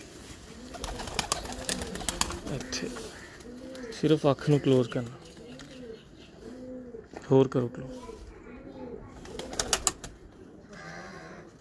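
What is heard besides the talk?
pigeons cooing while held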